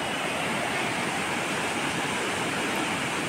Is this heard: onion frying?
no